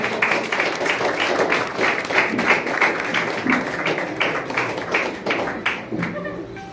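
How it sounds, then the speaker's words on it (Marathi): Audience at an event claps loudly in a fast, even rhythm, a dense run of close claps that holds steady and then thins out at the end. "एकदा जोरदार टाळ्या"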